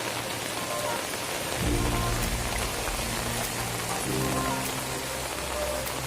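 Steady rain patters on a road while someone walks barefoot, a dense even hiss with low rumbling swells midway; no voices.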